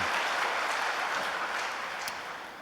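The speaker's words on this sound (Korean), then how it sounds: "성가단을 위해서 다시 한번 큰 박수 보내 올리겠습니다." Church audience giving a big round of applause for the choir, a dense, steady wash of many hands clapping that carries through and eases slightly toward the end, with no voices.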